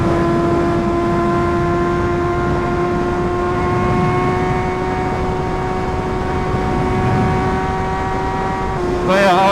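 An MV Agusta Brutale motorcycle with a titanium quad exhaust runs loud and close, holding a steady high-pitched engine drone for several seconds before the note shifts sharply at the very end.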